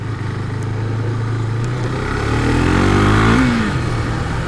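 A Husqvarna Vitpilen 401's roughly 400 cc single-cylinder four-stroke engine idles, then revs up and drops back, loud and close.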